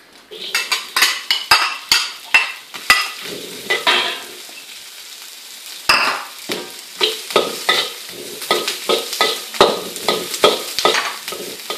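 Onions for fried rice sizzle in a pan while a metal utensil stirs and scrapes them in repeated rhythmic strokes, loud and close, with a brief quieter lull partway through before the clattering stirring picks up again.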